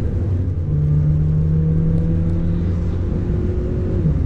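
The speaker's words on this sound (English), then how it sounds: "let me get on the gas a little bit" A 2010 Honda Civic LX-S with a 1.8 litre four-cylinder single-overhead-cam engine accelerating, a steady loud low hum with a rising tone from inside the cabin.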